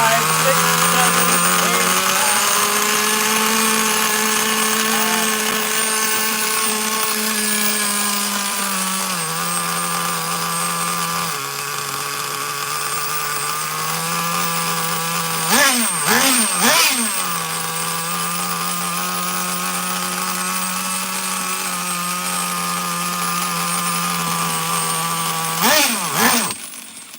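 A Traxxas Nitro Slash RC car's small nitro engine, carburetor running a little lean, idles steadily and loudly throughout with a constant buzzing tone, punctuated by a few sharp throttle blips near the middle and end.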